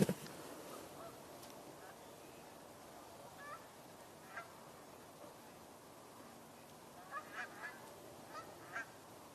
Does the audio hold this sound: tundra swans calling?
yes